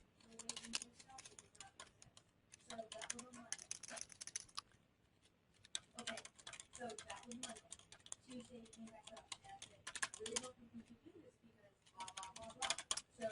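Notes being typed on a computer keyboard in a customer activity manager program, with bursts of quick clicking keystrokes between pauses, while someone talks over much of it.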